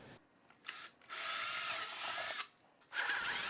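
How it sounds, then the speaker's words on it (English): A small bit drills a centre hole in a dummy radio insert for a model plane: short whirring bursts, then a longer steady close drilling run, a pause and another burst starting. "Dummy radio insert needed to have the center marked and drilled."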